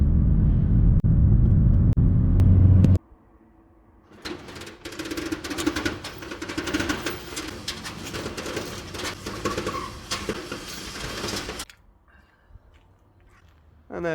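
VW Karmann motorhome on a T4 base driving along the road, a steady engine and road rumble with wind noise lasting several seconds after a brief loud low hum, then cutting out.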